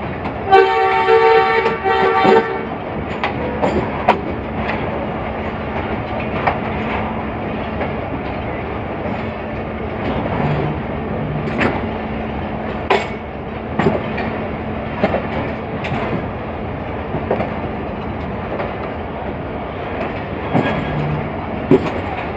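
A train rumbles through the Lahore railway station yard: a steady low rolling drone with wheel clatter and a sharp horn-like toot near the start, running loud and continuous throughout.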